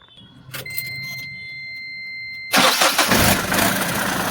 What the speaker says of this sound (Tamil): வண்டியோட கம்ப்ளைண்ட் பார்த்தீங்கன்னா சைலன்சர் கட்டாக இருக்குது, டப்பட்டப்பட்டப்பட்டுன்னு அடிக்குது.